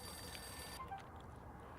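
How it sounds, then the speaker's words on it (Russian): In the video game Max Payne, a telephone rings with a bright electronic trill that cuts off partway through, leaving quiet room tone afterward. "Звонит телефон."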